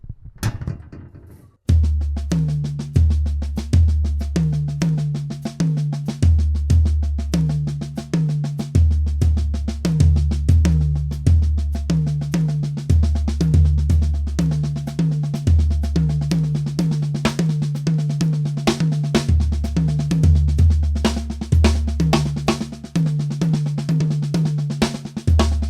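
Drum rudiments with randomly chosen right- or left-hand strokes, played in steady time as a continuous run of even, repeated hits with shifting accents, loud and close with no talking.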